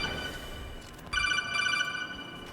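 A telephone rings with a faint steady electronic trill, starting partway through over a dense, noisy game background.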